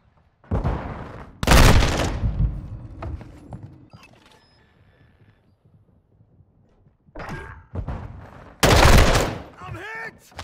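Heavy machine gun fire in a video game, arriving as loud close bursts that start and stop in clusters, with quieter mechanical clanks and thuds in the gaps between volleys.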